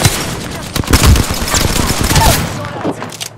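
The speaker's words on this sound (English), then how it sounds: "Shot fired at me" Rapid gunfire in Apex Legends, close and loud, with dense volleys of cracking shots running almost continuously and easing off near the end.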